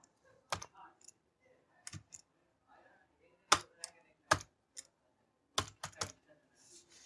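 Sparse keystrokes on a computer keyboard while code is typed, arriving in short irregular clusters of crisp clicks separated by quiet pauses.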